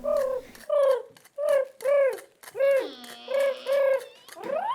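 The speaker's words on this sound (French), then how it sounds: "les pigeons font un petit festin à cause des grands-mères qui leur donnent à manger" Pigeons feeding coo in a close, clear series of about seven soft, rounded calls with short pauses between them.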